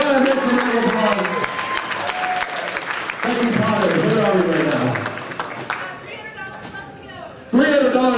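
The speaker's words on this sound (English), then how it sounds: "Go ahead and make some round of applause." Audience at an anime convention dating auction breaks into loud, sustained applause with crowd chatter, tapering off after several seconds before a fresh burst of clapping near the end.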